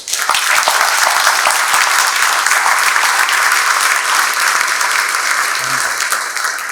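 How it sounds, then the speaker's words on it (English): Loud, sustained applause from a large audience at a fireside chat on the chemical industry, a dense, even wash of clapping that holds steady throughout without a break. "give a collective round of applause, a big round of applause"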